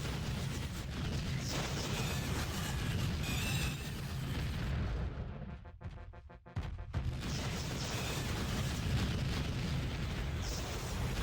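Electric attack of the Duke Nukem 3D episode-four final boss in a Doom 2 mod: loud, dense crackling bursts and booms that roar almost continuously, dropping out briefly partway through before surging back.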